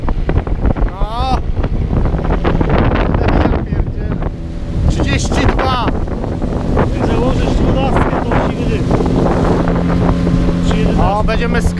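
A Storm 13.5 two-stroke outboard motor drives a boat through water, its loud, steady engine drone running throughout with wind buffeting the microphone and people talking over it.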